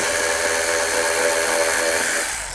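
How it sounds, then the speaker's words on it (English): A power tool with an 8mm socket backs out a bolt on a cover of a 2000-08 Chevy Tahoe engine. It gives a loud, continuous whirring drone that tapers off at the end. "there's a bolt right here. Use an 8mm socket."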